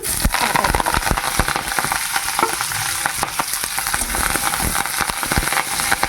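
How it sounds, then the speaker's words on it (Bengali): Cauliflower leaves fry in mustard oil with garlic, black cumin and green chillies, giving a loud, close, continuous sizzle broken by frequent sharp crackles and stirring clatter, with no voices. "পাতাগুলো খুব ভালো করে ভেজে নেব"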